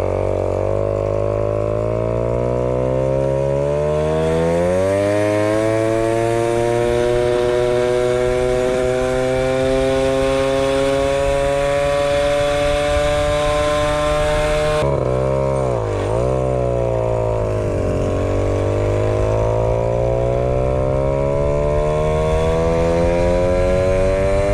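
A Peugeot 103 moped fitted with a size 68 carburetor jet revs hard past 9000 rpm, its loud, buzzing whine climbing and holding high, dipping briefly, then winding back up close by.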